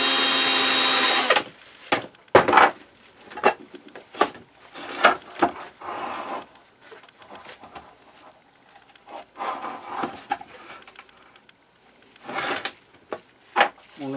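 A power drill in a workshop works greasy screws out of furniture, with a sustained whir at the start followed by bursts of drilling, rattles and wooden clunks separated by short pauses.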